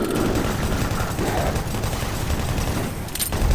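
Doom 3 monsters firing fireballs from their arm cannons in a video game: a dense, continuous barrage of loud blasts and booms that fills the whole stretch with no talk over it.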